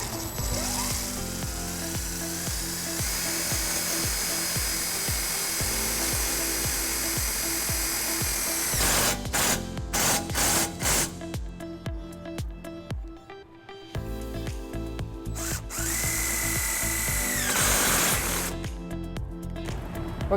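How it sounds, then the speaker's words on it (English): A power drill drives self-tapping screws into a wiring bracket on a 2004 GMC Canyon, whining loudly in several sustained runs separated by short pauses and clicks. "We'll be using the provided self-tapping screws that come with the kit."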